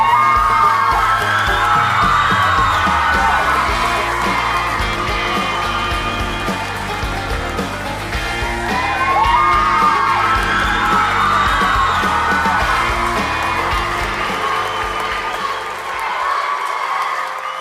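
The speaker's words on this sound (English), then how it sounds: "and the crowd goes wild" A talent show audience cheering, whooping and yelling loudly and continuously, a dense wall of crowd noise with high shouts rising in waves before briefly dropping off near the end.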